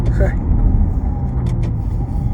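An Aston Martin 4x4 SUV engine accelerating on a road, a close, steady low drone from inside the car, with a brief voice near the start.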